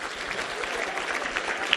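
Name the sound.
audience applause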